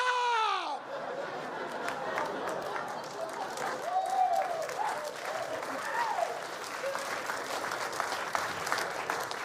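An audience at a comedy show breaks into applause, a dense burst of clapping and cheering that follows a shouted line and carries on steadily, with scattered whoops and chatter in the crowd.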